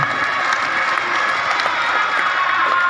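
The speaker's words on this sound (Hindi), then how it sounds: "जोरदार ताली बजाकर उनका स्वागत करें।" A crowd at a Shiv Puran religious discourse in Ramling, Shirur, Maharashtra claps loudly in welcome, a dense, continuous wash of applause that stays level throughout.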